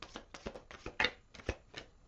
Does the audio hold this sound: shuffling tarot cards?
yes